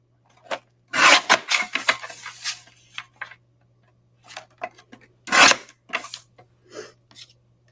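Black cardstock being cut down to 2.5 by 3.5 inches on a paper trimmer for an artist trading card, giving short raspy sliding and cutting strokes in two bursts separated by quiet handling noises, close and fairly loud.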